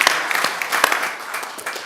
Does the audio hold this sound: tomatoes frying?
no